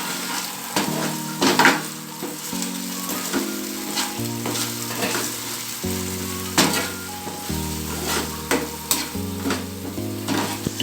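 Veg manchurian being stirred in a hot pan with sugar, salt and vinegar, a steady loud sizzle and frying hiss with repeated scraping stir strokes, over background music with no talk.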